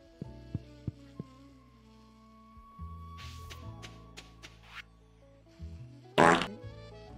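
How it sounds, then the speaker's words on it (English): A short cartoonish fart sound effect from a survival video game, heard as an item is grabbed, a brief loud burst near the end over soft lo-fi game music with light plucked tones. "The fart was perfect for when I grabbed the item."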